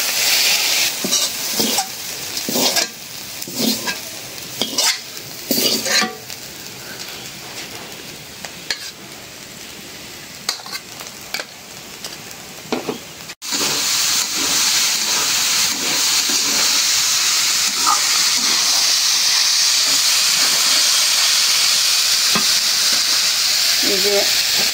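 Shredded cabbage and potato frying in a pan in a village home kitchen: repeated stirring scrapes over a sizzle, then a continuous loud, bright hiss of frying for the second half, close up.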